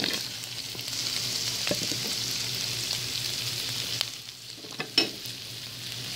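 Onions fry with pork in a pan for Filipino pork humba, a steady close sizzle and crackle with a few soft scrapes and stirring knocks near the end.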